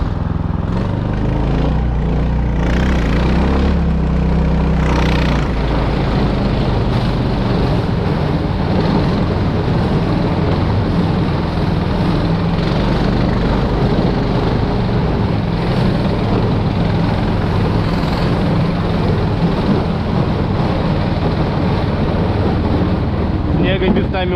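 A warmed-up towing vehicle drives off over patchy spring snow, its engine a loud, steady droning roar mixed with heavy wind buffeting against the microphone throughout.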